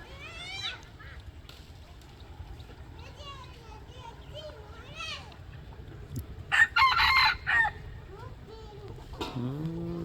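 A rooster crows and chickens cluck in a yard, mid-distance and clear, while people and children talk throughout in the background.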